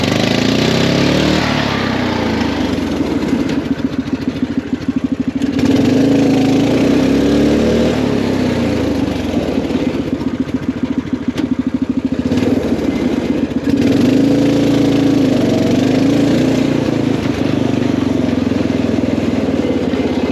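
The swapped-in engine of a Cushman Truckster utility vehicle runs loud and close in low gear, a steady droning putter that rises and falls slightly in pitch as the load changes, with no talking over it.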